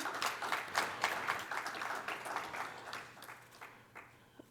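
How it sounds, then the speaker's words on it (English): Applause from the audience at a panel discussion on carnival in Tobago, a fairly faint, steady patter of many hands that gradually thins toward the end. "So I'd like you to support me by giving them a round of applause for their effort at being here."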